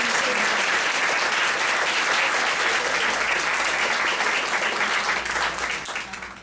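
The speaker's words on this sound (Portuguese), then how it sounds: "Por favor, fica aqui as nossas palmas" Sustained audience applause at a lecture on spiritist themes, a roomful of steady clapping that holds loud and even before tapering off at the end.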